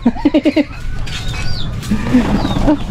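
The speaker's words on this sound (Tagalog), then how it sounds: "Kalapati." Pigeons coo in a quick run of soft pulses, then again more loosely after a pause, close by, with faint bird calls and background noise.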